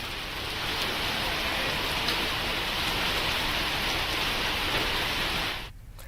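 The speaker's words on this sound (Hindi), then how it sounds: "मालवा जिले के सुसनेर में अचानक मौसम में बदलाव आया और तेज हवा के साथ बारिश हुई।" Heavy rain driven by strong wind during a sudden weather change in Susner, Malwa, Madhya Pradesh: a dense, steady, loud hiss that holds without a break, then drops away abruptly near the end.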